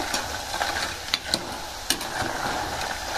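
Thin banana slices for crispy banana chips fry in very hot cooking oil with a steady, fairly faint sizzle, punctuated by a few sharp clicks of a utensil stirring the pan.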